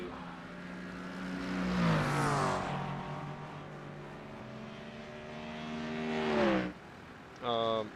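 Racing car engines in a racing video game at Monza rev and shift, pitches sweeping up and down in long loud pulls with a brief burst near the end.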